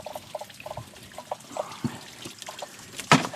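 Outdoors in winter, water trickles and dribbles in a thin, intermittent stream while plants are scrubbed clean by hand. Light splashes sound close, ending in a brief louder burst.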